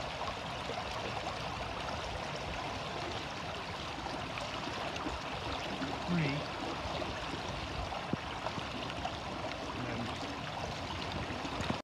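Steady, gentle flow of Black Brook during a river fieldtrip, a continuous soft trickling and rushing wash at low level with faint outdoor background.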